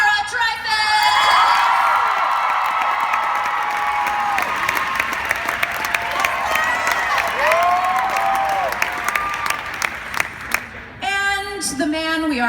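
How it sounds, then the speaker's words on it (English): A large convention crowd at a Broadway musical panel applauds loudly with whoops and cheers, sustained clapping that gradually thins before a voice speaks near the end. "Please continue your fabulous applause for Laura Dreyfus."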